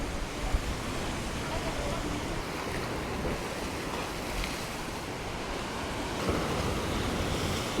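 Choppy sea at Cala Bona, Mallorca churns in a steady broadband wash of surf, with wind buffeting the microphone and a voice speaking over it.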